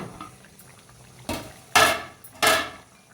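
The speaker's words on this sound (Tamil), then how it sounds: "குழம்பு பாருங்கள் நல்லா கொதிச்சு வந்துருச்சு" Paruppu urundai kulambu, a lentil ball curry, bubbling in a pot, with soft simmering at first and then three loud, close bursts of bubbling and spattering, no talk.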